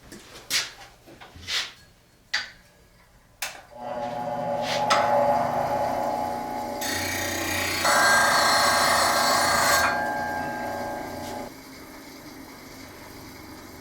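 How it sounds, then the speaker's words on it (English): Sharpening a wood turning tool: a few sharp taps and clicks give way to a sustained grinding whine that holds for several seconds, shifts pitch midway, then fades into quiet handling noise. "I'm going to sharpen my tool real quick."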